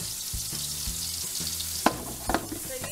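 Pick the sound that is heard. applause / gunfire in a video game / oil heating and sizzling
oil heating and sizzling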